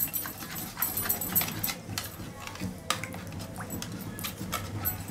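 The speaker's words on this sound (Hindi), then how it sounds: "इसको अच्छे से मिक्स कर लेंगे" Milk and maida flour being whisked together in a bowl for cheesy macaroni, with repeated scraping and clinking of a utensil against the bowl in uneven strokes, close and fairly quiet.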